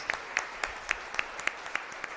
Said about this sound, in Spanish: Fuerte aplauso para el Señor